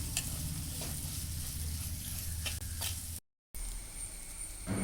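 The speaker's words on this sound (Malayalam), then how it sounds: "ഇനി ഇത് നന്നായിട്ടൊന്ന് വഴറ്റിയെടുക്കാം" Shallots sauté in a pan for a Chinese potato (koorka) theeyal, giving a soft, steady sizzle with light stirring scrapes. The sound is quiet and continuous, with one brief dropout to silence.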